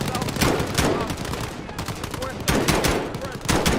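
Sustained automatic gunfire in Call of Duty Modern Warfare plays as dense, loud bursts of rapid shots with brief pauses between volleys.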